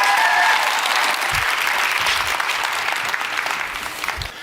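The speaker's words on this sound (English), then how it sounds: "another round of applause for my partners and for the largest lavender growing farm in" Applause from an audience at a talk on lavender farming, a dense steady wash of many hands clapping that carries strongly throughout and eases slightly toward the end.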